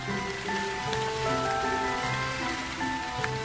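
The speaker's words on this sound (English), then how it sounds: "It is a rainy night." Steady rain pours down on a rainy night in a story animation, a dense, constant hiss of drops on surfaces lasting throughout, with faint sustained tones of background music underneath.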